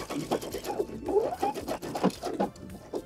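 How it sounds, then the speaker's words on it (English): A sewing machine back stitching and running a seam along a denim jacket sleeve, a quiet rhythmic series of short stitching bursts with brief pauses, close and alone. "Add a few stitches, back stitch, and come all the way down."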